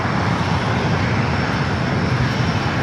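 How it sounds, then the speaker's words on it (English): A retro-liveried Air Canada Airbus A220-300 taxis toward Terminal 6 at Los Angeles airport, a loud, constant engine roar close by with no speech. "the retro Airbus A220-300 Air Canada, heading over here to Terminal 6"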